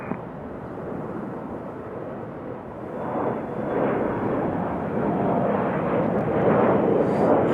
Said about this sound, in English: we're going to go with the arrival of Southwest